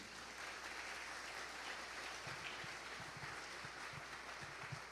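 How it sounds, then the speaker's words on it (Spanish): A church congregation applauds during a Spanish-language service, a faint, distant wash of clapping with a few sharper nearby claps standing out in the second half. "dele un aplauso al Señor por eso"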